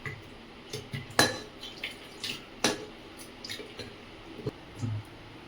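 A metal spatula clanks sharply against a pressure cooker as mutton curry with potatoes is poured in, with several distinct bright metallic knocks scattered among softer scraping and dripping sounds, and no speech.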